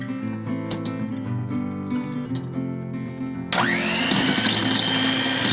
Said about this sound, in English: So here's a hand blender and I'll show you.